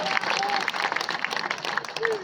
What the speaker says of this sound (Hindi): उनके लिए जोरदार ताली मारो आदि बाबा के लिए